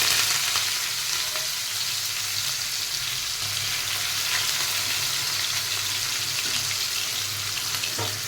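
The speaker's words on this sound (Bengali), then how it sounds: "জিরেটা হয়ে গেছে, আর পেঁয়াজ দিয়ে দেবো" Onions fry in hot oil with cumin seeds, a loud, dense and unbroken sizzle close up that stays level throughout, with a faint low hum beneath and no voices.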